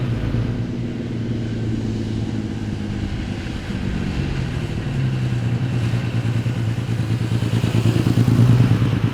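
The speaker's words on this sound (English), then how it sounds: "And the engine sounds completely different from the Scarab." A high-revving overhead cam engine of a vintage Maserati A6GCS race car running close by with a steady, buzzy drone that revs higher toward the end; no voices.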